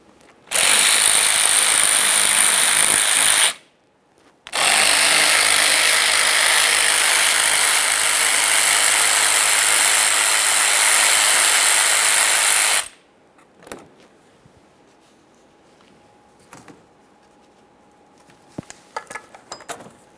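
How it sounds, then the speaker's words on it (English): Four 8mm intercooler mounting bolts being removed on a 2013-2020 Ford Fusion 2.0L, a loud close power tool whirring in two long runs with a brief pause between, followed by faint clinks and handling noises. "It's time for those four 8mm headed mounting bolts."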